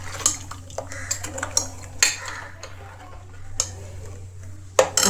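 A spoon stirs coconut milk with turmeric, cardamom and jaggery powder in a pan, making repeated metal clinks and scrapes in an uneven rhythm over a low steady hum, close up with no voices.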